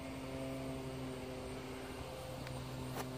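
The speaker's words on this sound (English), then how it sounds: "It was throwing my plane all over the place." A model plane drones steadily overhead in strong, choppy wind, its engine a continuous buzzing hum at moderate distance.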